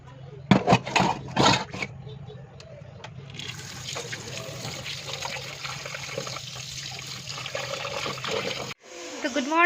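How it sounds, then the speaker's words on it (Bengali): Water runs steadily from a tap over fish being washed, after a few loud splashes and knocks, then cuts off abruptly near the end. "তো মাছগুলো আগে ধুয়ে নেই"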